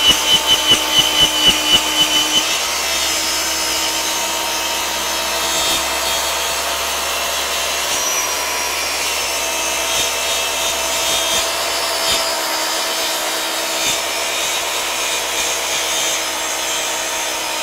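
A Festool track saw fitted with a crosscut blade rips through wooden drawer fronts, a few quick rhythmic pulses giving way to a loud, sustained, even cutting whine close by; no one talks.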